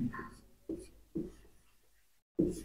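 A pen writes a short word on paper in four quick scratchy bursts separated by brief pauses, close and fairly quiet.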